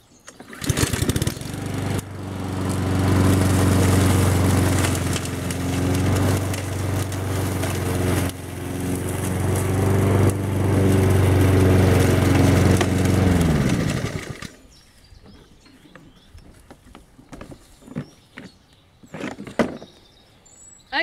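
A lawn mower with its collection bag fitted, no mulching kit, shreds small shrub branches and dry leaves, a loud steady engine roar with crunching for about thirteen seconds before cutting out, leaving faint scattered knocks.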